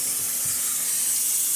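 Cold tap water runs over cooked noodles to rinse off starch for a seafood salad, a steady bright hiss of flowing water close by, continuous and unbroken with no voices.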